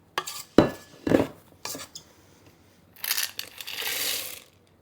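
Chocolate chips tumble into homemade chewy cookie dough in a mixing bowl, giving a few bright clattering impacts around one second, then a longer rattling pour of small pieces later on, close and fairly loud with no talking.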